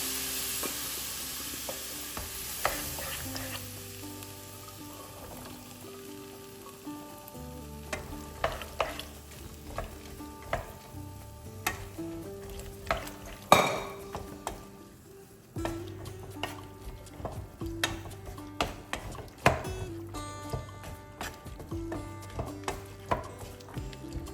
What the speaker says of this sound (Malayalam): ഇനിയിപ്പോൾ ഇതിലേക്ക് ഞാൻ വേവിച്ച കടല ഒഴിച്ച് കൊടുക്കുന്നുണ്ട്